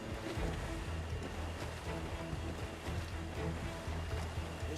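A sailing ship moves along a river in the game Assassin's Creed IV Black Flag, with a steady rush of water and wind and a low rumbling hull, loud and continuous throughout.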